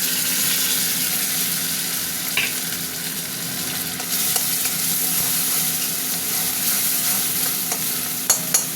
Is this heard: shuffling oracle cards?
no